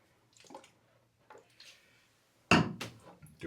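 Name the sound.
water rinsing during straight razor shave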